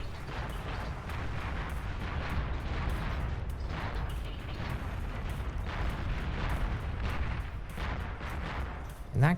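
Bombs explode in the real-time strategy game Beyond All Reason as a steady barrage of rumbling blasts and pops, continuous and fairly loud, with faint talk.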